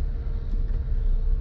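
A car reverses slowly into a parallel parking space during a driving lesson, giving a steady low engine rumble at close range with no talking.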